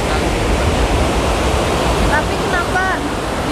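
Large, dense ocean waves breaking at Parangkusumo beach on the Indonesian south coast, a steady loud broadband roar of surf throughout, with a few faint bird-like chirps near the end.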